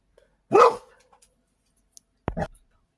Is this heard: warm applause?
no